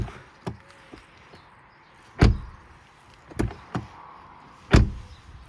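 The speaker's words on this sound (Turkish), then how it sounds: "kapı çok daha güzel kapanıyor ve güzel açılıyor" Car front door, freshly treated with silicone spray on its hinges and latch, shut and opened several times. The result is four solid, close thuds with softer latch clicks between them and no talk.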